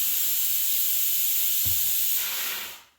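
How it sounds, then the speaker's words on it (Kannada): A kitchen pressure cooker lets out a loud, steady whistling hiss of escaping steam that holds for about two and a half seconds before quickly cutting off. "ಕುಕ್ಕರ್ ವಿಸಿಲ್ ಬಂತು"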